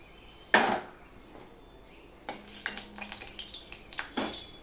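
Whole garam masala and bay leaves crackle in hot oil for a Bengali chicken curry: one loud sizzling burst, a quiet pause, then a steady, busy frying crackle with small pops, close by and with no talking.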